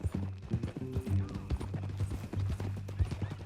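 Horse hooves clip-clopping at a steady walking rhythm in Red Dead Redemption 2, close and distinct, with tack and gear jingling alongside and no speech.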